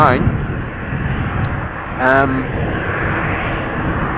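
Airliner departing Amsterdam Schiphol airport, heard as a steady broadband engine roar with a whining tone that rises partway through, loud and continuous, while a person talks over it.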